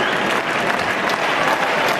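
The tennis crowd at Roland Garros applauds as Roger Federer serves for the match against Mikhail Youzhny in 2007, sustained, dense clapping that fills the stadium at an even level.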